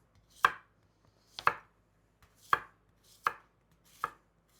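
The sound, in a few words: knife slicing zucchini into rounds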